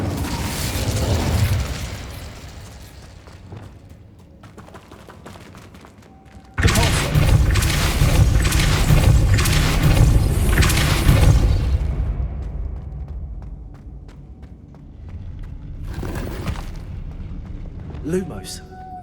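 A fiery Incendio spell erupts in Hogwarts Legacy, a loud broadband blast and roar lasting several seconds, followed by crackling, thumping game effects and ambient fantasy sounds.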